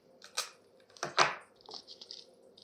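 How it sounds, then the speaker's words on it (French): Short, crisp crinkling and tearing noises of tape being pulled and pressed down, a few quick bursts close up in a quiet room. "je mets du scotch"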